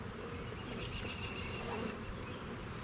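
Honey bees at an opened hive during a colony split with brood frames being moved, giving a faint, continuous buzzing hum close by.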